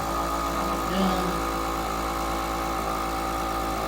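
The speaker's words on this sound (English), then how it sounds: "it's vacuuming nicely. I can see the air is coming out" A vacuum sealer draws the air out of a bag of beef with a steady, droning motor hum and hiss, unbroken and fairly loud throughout.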